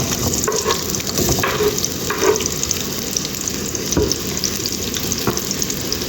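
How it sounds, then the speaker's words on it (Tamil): Chopped onions sizzling in hot oil in a pan for an Indian boiled-egg gravy, a continuous crackling hiss broken by occasional scraping and stirring sounds. "ஆயில் சூடாகிடுச்சு, வெங்காயம் போடுவோம்."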